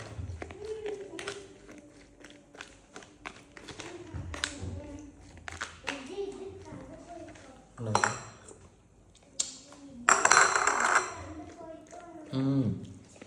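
Popcorn being stirred in a pot, with scattered metallic scrapes and clinks of a utensil against the pan, some louder bursts, while a person talks throughout.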